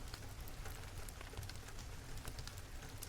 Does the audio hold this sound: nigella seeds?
no